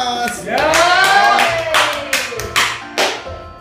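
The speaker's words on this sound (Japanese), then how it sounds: "誰その拍手うるさいやつ。" Loud, close hand clapping bursts out in sharp uneven claps amid cheering and lively talk from a small group.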